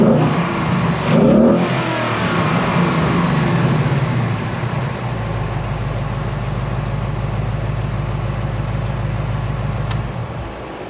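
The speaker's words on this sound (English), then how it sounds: "Let me do a rev or two and see what it sounds like." A 2024 Mustang GT V8 fitted with a K&N cold air intake revs up loudly close by, then settles into a deep, throbbing idle that rumbles steadily without any talk.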